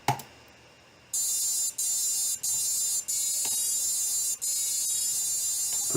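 An electronic speed controller for a motor plays the Star Wars Imperial March as loud, buzzy beeping tones, a series of sustained notes separated by brief gaps after a short click and pause.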